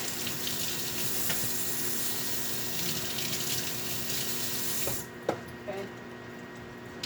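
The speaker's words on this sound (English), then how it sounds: "Rinse my bag off." Tap water runs steadily into a kitchen sink while a ground turkey package bag is rinsed, a close, even splashing flow that stops partway, followed by a few faint clunks and handling sounds.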